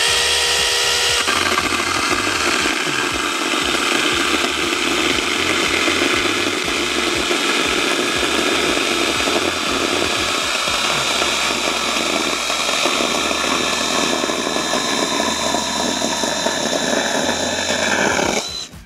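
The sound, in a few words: small 6-inch electric chainsaw cutting lumber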